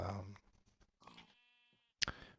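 Sheep bleat in a Minecraft modpack game, a few short nasal calls close by, then a brief sharp game sound at the end, with no talking.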